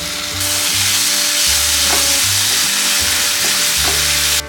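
Onion, garlic, ginger and green chilli paste for pav bhaji frying in hot oil: a loud, steady, dense sizzle with a few utensil taps, close up and continuous, no voices.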